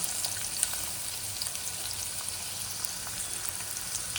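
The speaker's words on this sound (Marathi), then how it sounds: "आणि बारीक चिरलेला कांदा टाकायचा" Finely chopped onion frying in a pan, a steady close sizzle with small crackles and pops throughout, no voices.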